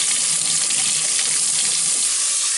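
Hot water runs steadily from a tap while rinsing a child's natural hair, a continuous hiss of spray and splashing, close and fairly loud, with no talking.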